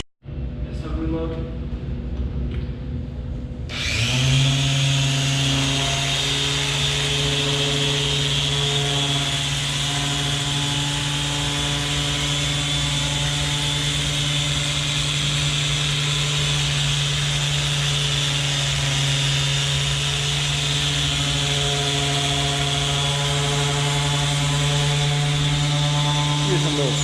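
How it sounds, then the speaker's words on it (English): A polishing buffer works the paint of a Camaro ZL1 during detailing, starting after a few seconds of quieter background and then running as a steady, loud, continuous whine with a low hum, unbroken through the rest of the clip. "Here's a little smaller buffer on the front there."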